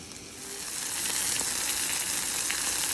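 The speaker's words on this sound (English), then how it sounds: "It's going to sizzle." Morel mushrooms sizzle and crackle steadily in a hot frying pan, the hiss swelling louder after the first second and staying constant, close up with no talking.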